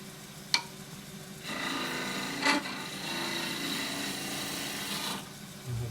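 A woodturning tool cuts a wooden button foot spinning on a lathe, giving a steady scraping rasp that lasts a few seconds, with brief sharp ticks before and during the cut.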